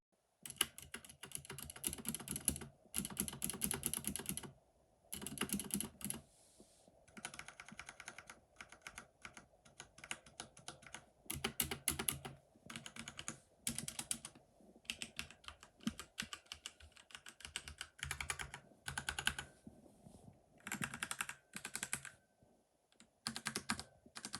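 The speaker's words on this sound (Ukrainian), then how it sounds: "можу ще дати послухати окремі клавіші" Keys on a HyperX Alloy FPS Pro mechanical keyboard are pressed up close in bursts of rapid clacking typing, with brief pauses between runs and no talking.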